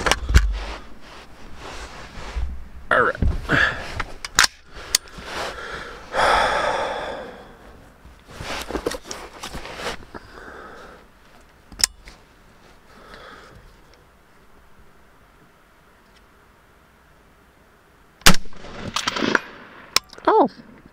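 Rifle shots from a 20-inch M16A3 clone firing Hornady M193 ammunition at long range with iron sights, heard as a few sharp, loud broadband cracks scattered among quieter handling noises and breaths.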